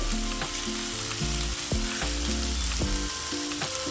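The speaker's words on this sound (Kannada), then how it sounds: "ಐದು ನಿಮಿಷ ಎಲ್ಲ ಚೆನ್ನಾಗಿ ಹುರ್ಕೋಬೇಕಿದೆ" Spices, chillies, poppy seeds, cloves and tomato sizzle steadily in a pan for village-style mutton sambar, with loud continuous frying and periodic scraping stirs throughout.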